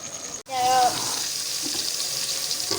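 Onions brown in a pan for chana, giving a steady, close sizzling hiss that settles in after a brief break near the start, with a short tonal sound just before it.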